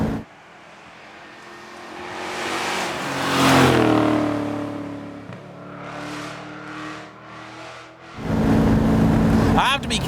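A 1975 Alfa Romeo Montreal's engine pulls along at about 60 mph, droning steadily and swelling as it revs, with a louder roar near the end and some speech over the engine noise.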